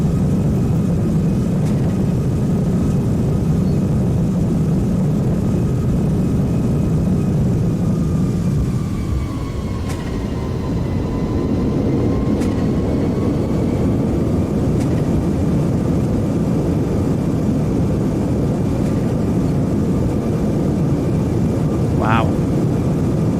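A simulated A340 airliner rolls down the runway with a steady, loud engine roar and rumble that holds throughout, a faint rising whine partway through and a brief tonal blip near the end.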